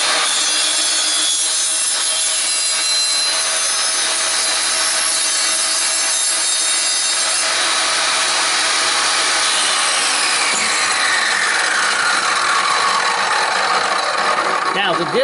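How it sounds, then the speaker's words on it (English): A dry saw cuts through a bottle brick made from glass bottles, producing a loud, continuous, harsh grinding rasp that runs throughout, shifting in pitch near the end as the blade works through. "The disadvantage to using a dry saw like this is you can see that the edge is a little"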